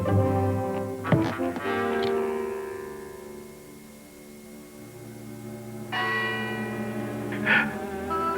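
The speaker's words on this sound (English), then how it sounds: "Scrooge awoke to the chimes of a neighboring clock." Neighbouring clock chimes in an animated film of A Christmas Carol, with resonant bell strokes ringing out and decaying into a long humming tail, a second chime entering later, no speech.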